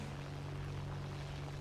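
A piston aircraft engine in War Thunder drones at a steady, constant pitch, a low even hum with harmonics while the plane climbs toward 13,000 feet, alone and without talk.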